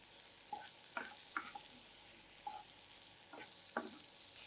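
Potatoes and capsicum fry in a pan with a steady, quiet sizzle, broken by several sharp scrapes and clinks of stirring spaced a second or so apart.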